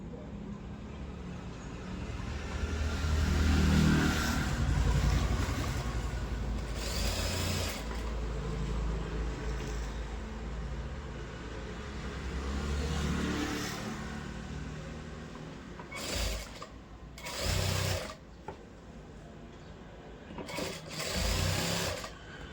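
A sewing machine stitching the shoulder seam of a cross-cut blouse, with runs of whirring motor and needle chatter that rise and fall, several short bursts near the end, close and with no talk.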